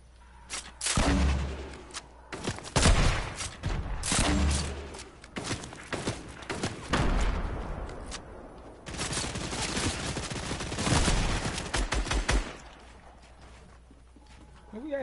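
Repeated bursts of gunfire in the Fortnite Chapter 1 video game, loud volleys and single shots scattered across the span with brief gaps, busiest early and again near the end before tapering off.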